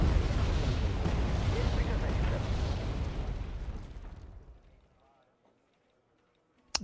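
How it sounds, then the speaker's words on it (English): Expensive artillery in the Wargame AirLand Battle video game fires as a heavy, rumbling barrage that fades out to near silence, ending with a sharp click while a voice talks. "Somebody bought in some very expensive artillery."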